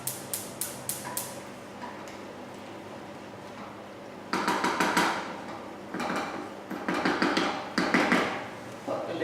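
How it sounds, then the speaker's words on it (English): Stirring black pepper into spaghetti bolognese in a pan: a spoon taps and scrapes the pan in quick clusters, with near clinks and louder rattling bursts toward the end. "stir in that black pepper"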